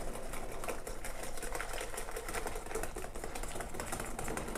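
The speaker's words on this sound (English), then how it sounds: "and whisk it in." A small whisk beats carrot pie filling in a bowl, a rapid, even, faint rattling tap that carries on without a break.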